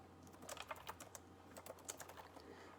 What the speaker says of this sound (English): Give me 1 second to type that out.